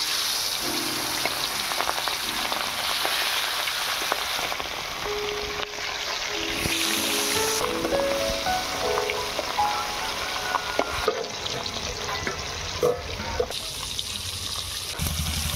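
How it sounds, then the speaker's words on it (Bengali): Hilsa fish frying in hot mustard oil in a pan, a steady dense sizzle and crackle that continues throughout the clip with no speech. "তেল গরম হয়ে গিয়েছে, এবারে মাছগুলো ভেজে নেব।"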